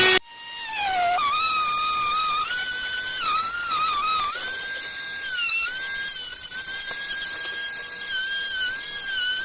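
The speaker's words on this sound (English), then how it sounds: "now I'll use the sanding bit and I'll clean that up" A high-pitched rotary tool with a sanding bit whines steadily while grinding metal on a Mossberg 88 shotgun, its pitch wavering slightly as pressure shifts, continuous and close for the whole stretch.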